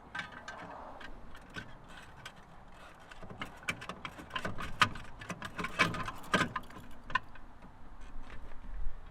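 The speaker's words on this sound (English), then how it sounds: "turn it half a turn, your lock splits apart, then you can just push it together over the hitch." An SAS Fortress K hitch lock gives close, faint mechanical clicks and rattles as its key turns and the lock body moves, in irregular bursts.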